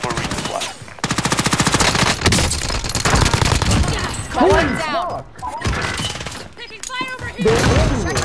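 Rapid automatic gunfire and shots from a video game battle, with bursts and crashes filling most of the span while players shout and talk over the loud action.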